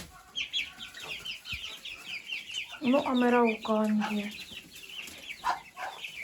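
Crested bantam chickens and a crested rooster cluck and call close by in a farmyard, with bursts of fowl chatter and a loud crowing-like cry in the middle while someone speaks briefly.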